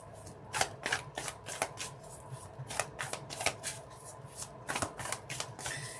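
Tarot cards being shuffled before a draw, a run of soft riffling bursts and flicks repeating irregularly, close and fairly quiet with no talking.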